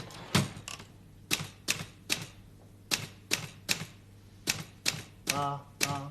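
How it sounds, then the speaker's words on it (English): Typewriter keys strike one by one in an uneven rhythm, close and crisp, with a brief whirring roll near the end. "And the typewriter rolls."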